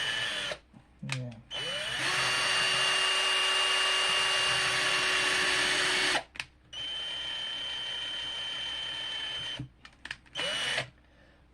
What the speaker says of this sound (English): I felt the drill bit go through on the two on the upper side.